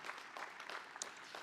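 A university commencement crowd for a school of business claps steadily in a short, faint, distant wash of applause.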